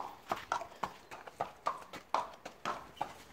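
A horse being led and turned slowly and carefully, its hooves striking the ground in a steady clip-clop of about nine distinct, fairly close footfalls over a quiet background.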